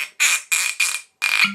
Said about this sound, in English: Oh, squeaky cork.